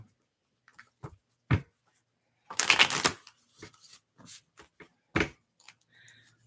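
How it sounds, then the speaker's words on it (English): Tarot cards are shuffled by hand in short, soft riffling bursts with gaps between them, close and fairly quiet, with one longer fluttering riffle in the middle. "I want to shuffle up live so you guys can see what's going on."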